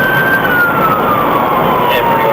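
A loud, steady police car siren wail during a chase, sweeping slowly downward in pitch, close by, over constant road and engine rumble.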